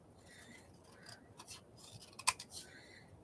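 Scissors trimming paper for a gluebook page, a few soft close snips and scrapes that build to one sharp cut near the end, quiet and without speech.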